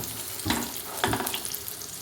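Kanthari chilies frying in hot oil sizzle steadily while a spoon scoops through the pan in two distinct scraping strokes, close and moderately loud, without talk.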